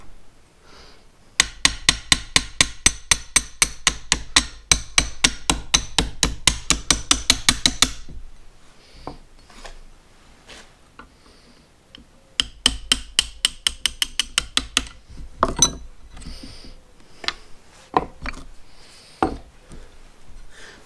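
A tight pin on a Massey Ferguson 35 tractor's PTO lever is tapped out with a hammer: close, sharp metallic taps in a fast steady run of dozens, a pause, then a second shorter burst and a few scattered knocks.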